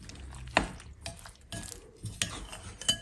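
A whisk or spoon stirring three whole eggs into batter in a bowl, soft wet swishing punctuated by several sharp clinks against the side, close up and without speech.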